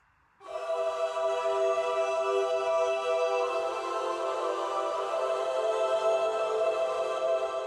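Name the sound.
two stacked MIDI synth sounds in Logic Pro X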